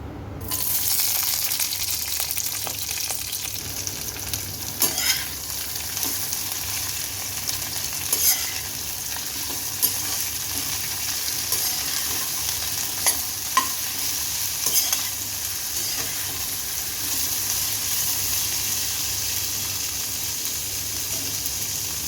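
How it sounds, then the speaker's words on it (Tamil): Ivy gourd frying in oil in a kadai, a continuous close sizzle and hiss with faint scrapes and taps of stirring throughout. "ஒரு கடாயில் ஆயில் சேர்த்துக்கலாம் இதில் நம்ம இந்த கோவக்காவை ஆட் பண்ணி ஃப்ரை பண்ணிக்கலாம்"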